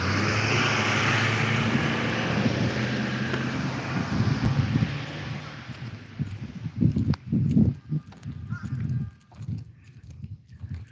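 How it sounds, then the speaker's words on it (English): Heavy road traffic with large buses passing close by, a loud broadband rumble and wind-buffeted roar that swells, then breaks into separate passing vehicle surges toward the end. "Wait till the buses pass."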